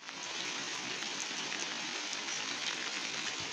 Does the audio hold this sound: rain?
yes